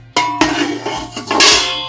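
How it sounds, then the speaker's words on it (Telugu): A metal plate set down inside a pot on a stove preheating over a low flame for a honey cake, giving a few sharp metallic clinks and clatters close by with no talking. "ఒకటి ప్లేట్ పెట్టుకోవాలి"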